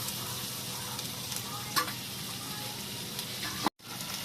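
Four large sliced onions fry in a pan for an egg curry with small vadiyalu, a soft, even sizzle with a few faint clinks and a brief break near the end.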